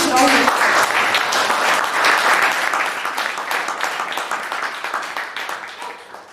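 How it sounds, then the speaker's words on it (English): An audience at a Bangalore Toastmasters meeting breaks into a burst of applause, loud and dense at first, then thinning and fading over several seconds, with a voice briefly heard at the start. "I think Smita Roshi deserves a huge round of applause."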